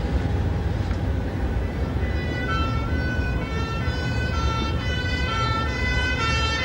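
An ambulance siren wails in a repeating rising-and-falling tone, moving past at moderate distance over steady road traffic noise.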